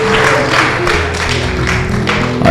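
A church congregation applauds, a dense wash of clapping that swells and pulses, loud and close, with a low musical hum underneath.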